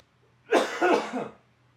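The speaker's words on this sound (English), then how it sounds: "I got a cough here real quick." A short burst of two or three harsh coughs in quick succession, close and fairly loud, with quiet before and after.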